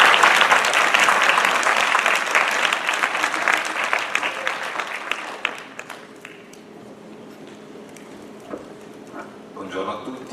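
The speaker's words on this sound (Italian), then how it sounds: "accogliamo con un applauso un giovane sindaco, nonché padrone di casa, Antonio Gentile." An audience at an Italian youth-and-politics conference in Sapri claps loudly and steadily for the young mayor and host, the applause fading after about six seconds into quieter room noise with a few scattered claps.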